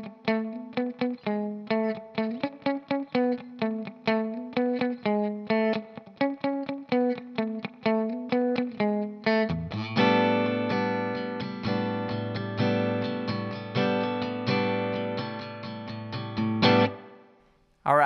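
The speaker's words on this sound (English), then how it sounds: "I'm using a technique I call bubble picking, or some people call it popcorn picking, and it's just sort of this popping sound." Electric guitar plays the one-note part of a song with bubble picking, short popping notes in a quick, even rhythm, then shifts to sustained, effected chords before cutting off.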